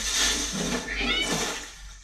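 A cat meows in a TV drama scene, several drawn-out, wavering cries in a row at moderate loudness, with a faint background hum and no talk.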